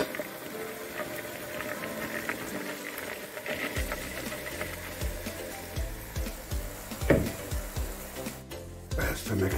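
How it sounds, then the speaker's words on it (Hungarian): Red cabbage is poured into simmering caramel and water in a pan, giving a steady bubbling sizzle with some stirring clatter. Sounds are close and moderately loud, and a voice speaks at times. "Amikor összeáll már a víz a karamellel, ráöntjük a vörös káposztát,"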